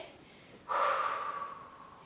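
One strong, breathy exhalation during a Pilates exercise class starts abruptly and fades over about a second and a half, close and alone with no talk over it.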